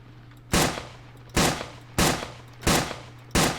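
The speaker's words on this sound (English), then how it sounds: "Let's test out the FRKS shotgun." An FRKS pump-action shotgun firing 18-gauge rounds in the game Survive the Nights: five sharp, loud shots come at a steady pace of about one every 0.7 seconds, each with a short decay, over a low ambient hum.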